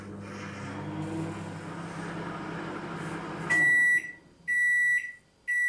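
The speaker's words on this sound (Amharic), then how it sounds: "እዛ 30 ሰከንድ ማይክሮዌቭ ውስጥ ከተዋለሁ።" A microwave oven hums steadily while it cooks eggs, then stops and gives three loud, sharp beeps in quick succession.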